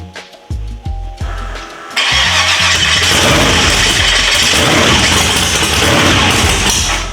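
Supercharged methanol engine in a 1953 Chevy 3100 pickup, freshly rebuilt, cranks in a few loud turning bursts, then catches and roars into a steady, harsh, rumbling run close by with no talking.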